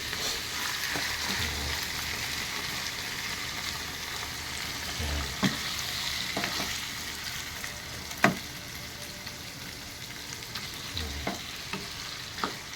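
Chicken liver and gizzard adobo fries and sizzles steadily in a pan, a continuous crackle broken by occasional sharp pops and stirring clatters, close and alone without talk.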